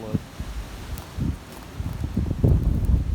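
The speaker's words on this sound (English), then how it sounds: "The wind's ripping here. Hope it's not interfering with this." Strong wind gusting outdoors among old trees and buildings in Honolulu, Hawaii, heard as low rumbling buffeting on the microphone that rises in bursts, loudest toward the end.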